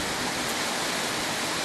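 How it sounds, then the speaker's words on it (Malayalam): Heavy rain pours down in wind at Ranni, a steady, dense hiss of falling water that fills the short stretch evenly and loudly, with no voices over it. "നല്ല മഴയാണ് പെയ്യുന്നത്."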